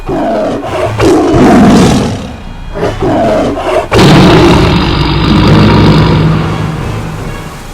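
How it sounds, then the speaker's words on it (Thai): A tiger roars in pain, loud and close, with a long raw bellow and a rumbling tail, standing alone without any talk. "ก่อนที่มันจะคำรามด้วยความเจ็บปวด"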